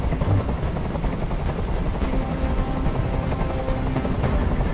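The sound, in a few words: helicopter hovering in video game Detroit: Become Human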